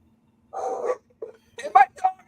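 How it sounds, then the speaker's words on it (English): A dog barks indoors in a few short, muffled bursts near the mic, a longer yowl followed by quicker yips, fairly quiet with a low steady hum beneath. "And my dog is barking."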